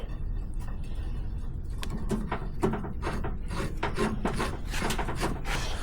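A Heim joint being threaded onto threaded rod coated in anti-seize during an XTF kit car chassis assembly, close rhythmic metal rubbing and scraping that grows busier, with no voices.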